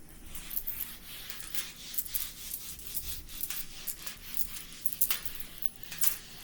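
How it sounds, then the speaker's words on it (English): Schoolchildren in a math classroom wiping their small whiteboards clean, a faint, scattered mix of overlapping rubs and squeaky swipes in quick irregular bursts. "Erase your board."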